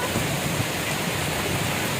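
Heavy rain pours steadily at Marina Beach in Chennai, a dense, continuous hiss filling the scene from start to end without a break.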